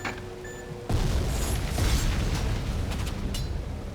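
A grenade explosion in the video game BloodRayne 2 hits suddenly with a loud, broad boom and then rolls on as a sustained, rumbling roar with scattered crackles.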